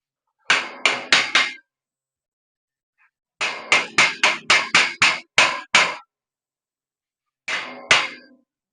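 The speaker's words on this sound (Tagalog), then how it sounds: "Martilyo." A hammer strikes sharply in bursts, first three or four quick blows, then a longer run of about nine even hits, and a final pair, each a bright close metallic thwack separated by silence, during room clearing and renovation.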